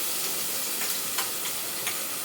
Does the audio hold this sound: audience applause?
no